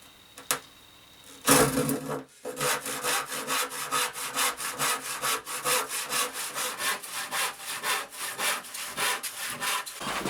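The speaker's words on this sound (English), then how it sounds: "It needs cut into size, and as you can see I haven't got much room in here, so I'm going to cut it by hand" Hand saw cutting 18mm plywood: after a couple of light knocks, a long run of fast, rhythmic rasping strokes, close and fairly loud, continuing steadily to the end.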